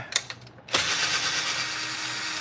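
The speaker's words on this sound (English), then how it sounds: "taking these screws out here" Screws being backed out of a Kirby vacuum with a power driver: a few light clicks, then a loud, steady whirring buzz held close by.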